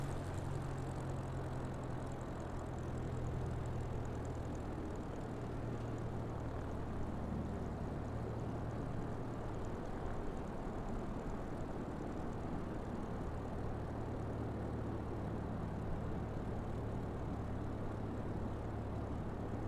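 An aircraft engine in Microsoft Flight Simulator drones at a steady, constant level throughout, a continuous propeller-plane hum with no breaks or talk.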